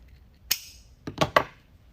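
Three crisp, close snips, spaced unevenly over two seconds, come from scissors cutting red plaid ribbon for a wreath. They are heard alone in a quiet room.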